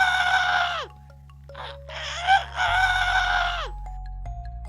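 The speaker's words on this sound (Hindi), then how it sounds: "उन्होंने देखा कि एक मुर्गा जोर जोर से चीख रहा था।" A rooster crows loudly in two long, strained cock-a-doodle-doo calls with a short squawk between them, close and clear over a faint steady background tone, likely a cartoon sound effect.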